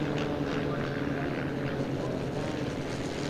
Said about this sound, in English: Flypast continuing overhead